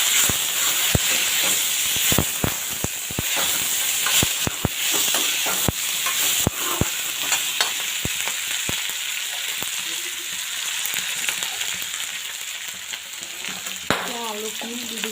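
Pork sizzles loudly in a hot pan beside fried garlic, ginger and onion, with sharp scraping stirs and clinks cutting through a constant crackling hiss that settles down toward the end.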